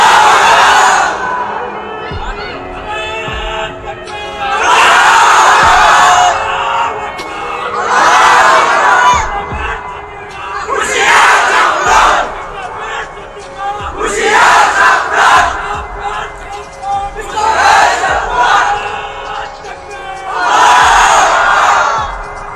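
A large crowd at a religious gathering answers a takbir call, chanting in loud, repeated swells of massed voices, about six bursts with short gaps between them.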